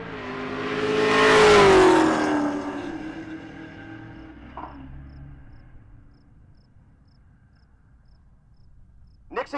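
A second-generation Camaro and a fifth-generation Camaro drag racing at Pueblo Motorsports Park, one loud engine roaring and sweeping up in pitch as the cars launch, then fading into the distance, with insects chirring faintly and a sharp clank near the end.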